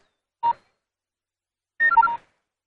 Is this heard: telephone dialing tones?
yes